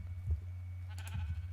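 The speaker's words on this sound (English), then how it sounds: "So there was some sheep over here." Minecraft sheep bleat twice, a short low baa near the start and a longer wavering one later, over a steady game ambience.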